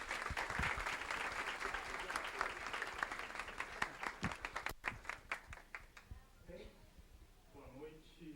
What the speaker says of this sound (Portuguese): Por favor, um aplauso de boas-vindas.